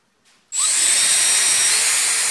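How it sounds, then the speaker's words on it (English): A power drill bites into wood to bore a roughly 50 mm hole for a garden lamp, starting abruptly after a brief soft whir and then holding a loud, steady, high-pitched grinding whine, alone. "So what I'll do is need to drill a hole and clamp it to a piece of wood"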